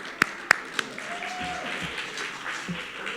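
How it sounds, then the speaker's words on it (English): Audience at a city council candidate forum claps for the candidates: a few sharp, loud claps near the start, then a low, soft patter of scattered applause in the room. "one more round of applause for all of them"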